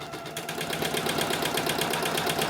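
A sewing machine stitching a piece of fabric runs steadily, a fast even mechanical whir with rapid needle ticking, close and continuous, no talking.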